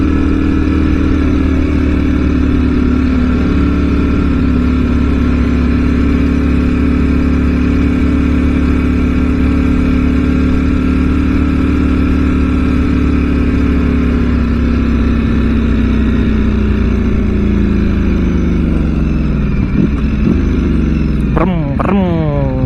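The engine of a Ducati Streetfighter V4S motorcycle runs at a loud, steady, close idle-like drone, easing lower near the end as brief clicks and a short rev blip follow.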